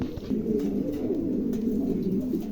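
Pigeons cooing close by, with soft, low, rolling coos repeating continuously over a faint background hum.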